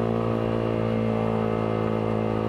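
Yamaha R15 V3 150 cc motorcycle fitted with a Villan exhaust, engine braking after the throttle closes: a steady, droning engine note with a flat, even tone, loud and constant throughout.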